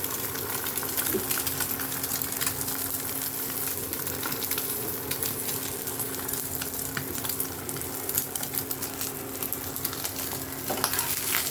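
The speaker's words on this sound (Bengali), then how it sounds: "আমার পরোটা সব ভাজা হয় নাই" Parathas fry in a pan with a continuous, even sizzle and light crackle throughout, along with a faint steady hum in the background.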